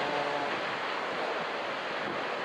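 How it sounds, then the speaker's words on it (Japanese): Ocean waves breaking at Sendai Shinko beach in January, fast, dumping surf that makes a continuous loud roar with wind buffeting the microphone throughout. "波速いんですよね。"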